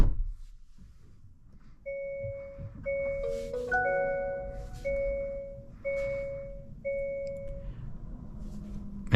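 A 2023 Hyundai Ioniq 6 electric car powering on plays a soft, melodic startup chime of several clear, spaced electronic tones over quiet cabin background.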